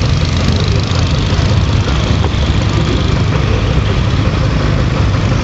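Heavy diesel tractor engines, including pull tractors, run continuously at a steam show, a loud, low, rumbling drone with no pauses.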